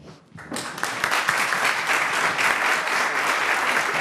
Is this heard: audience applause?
yes